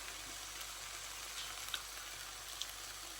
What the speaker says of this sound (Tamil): சேர்த்து எல்லாத்தையும் ஒருக்கா நல்லா பிரட்டி விடுவோம்.